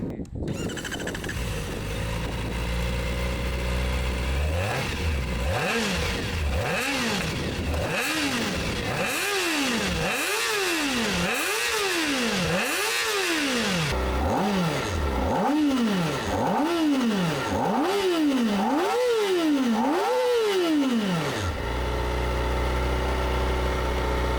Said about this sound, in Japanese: それではエンジンをかけてみたいと思います。